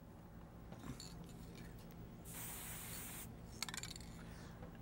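A faint hiss of spray onto a painting comes in one steady burst of about a second, followed by a few soft rattling clicks.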